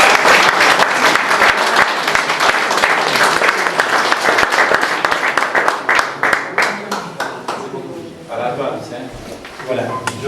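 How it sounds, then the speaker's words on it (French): Loud, close applause at an exhibition opening, dense clapping that thins into scattered individual claps, with a voice speaking briefly near the end. "Je voulais un grand applaudissement pour mon ami."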